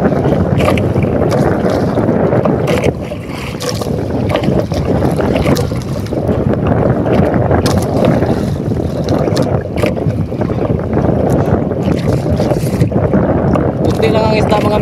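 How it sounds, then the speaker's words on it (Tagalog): Strong wind buffets a small fishing boat at night on the sea off Camiguin, a loud, constant roar and rumble of gusts and water over the microphone, with occasional knocks. "kasi malakas ang hangin"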